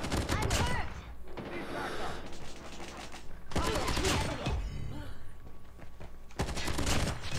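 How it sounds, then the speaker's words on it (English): Gunfire in the mobile shooter Call of Duty Mobile, loud rapid automatic bursts that come in several separate volleys with short gaps between them. "why are you shooting me?"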